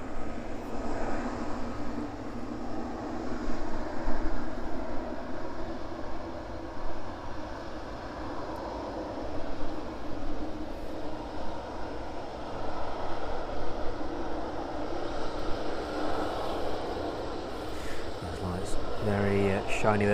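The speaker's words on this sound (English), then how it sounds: "777 freighter arriving in from Leipzig this evening." A Boeing 777 freighter taxis after arriving at East Midlands Airport in the evening, a steady broad jet engine roar with a whine that swells and eases throughout, while a person talks over it.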